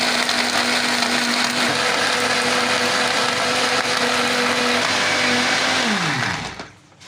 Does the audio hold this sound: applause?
no